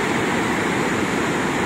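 The Salgado River in Aurora, Ceará, Brazil, flows heavily toward the Castanhão reservoir, a loud continuous roar of rushing water with no pauses, close to the microphone.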